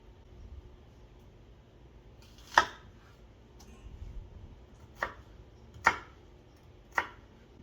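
A knife slices yard long beans into thin, long strips on a cutting board, giving about five crisp, separate chops spaced unevenly over several seconds, close and fairly quiet.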